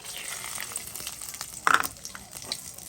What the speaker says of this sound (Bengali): মশলা সব ভাজা হয়ে গেছে।